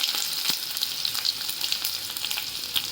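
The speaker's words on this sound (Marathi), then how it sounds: "तेल तापले आता त्याच्यामध्ये जिरे टाकते जिरे चालले की लसूण टाकते त्याच्यामध्ये" Cumin seeds and garlic sizzle in about two spoons of hot oil, a steady bright crackle with occasional sharper pops, close and alone.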